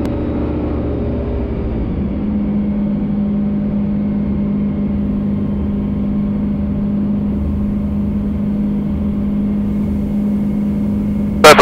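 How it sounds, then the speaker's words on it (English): A taildragger aircraft's engine idles steadily on the ground, a loud, even drone with a strong low hum throughout, shifting slightly in pitch early on and ending in a brief sharp noise. "Test the idle. And we're still running at idle."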